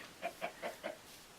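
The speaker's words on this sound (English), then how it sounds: "Chickens." Four short, evenly spaced clucks from chickens in the blocky survival game Cross Craft, close and clear, then a quiet pause with no talk.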